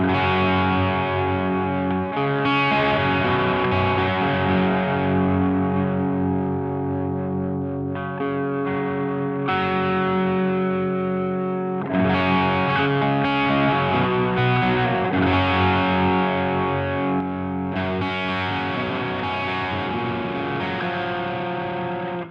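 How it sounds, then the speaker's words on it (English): A heavily distorted electric guitar through a Line 6 Helix model of a Bogner Ecstasy amp plays sustained, saturated, dark-toned chords and riffs, loud and continuous with thick amp-driven grit throughout. "Bogner Ecstasy, or the Bogner amps in general, are fairly dark sounding amps"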